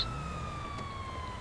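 A video game ambulance siren holds a steady, slowly falling wail at moderate distance over low background noise, brief and unbroken.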